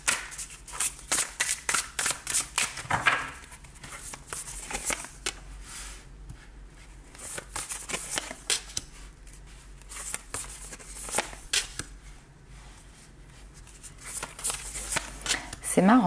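Tarot cards shuffled in quick repeated riffles and slaps, crisp and close, running in bursts through the whole stretch with short pauses between.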